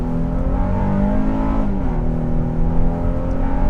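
A 2019 Honda Pilot with a V6 accelerates in normal mode, its engine note climbing steadily in pitch, dipping briefly at a gear change, then pulling again in a smooth, continuous drone heard from inside the cabin.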